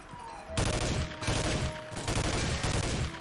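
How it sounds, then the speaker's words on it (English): Rapid automatic gunfire from a heavily recoiling gun in a first-person shooter video game, loud sustained bursts of crackling shots lasting several seconds after a brief quieter lead-in. "That's a lot of recoil on this gun."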